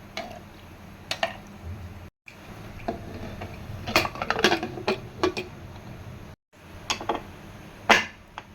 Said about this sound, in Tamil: குக்கரை வந்துட்டு க்ளோஸ் பண்ணியாச்சு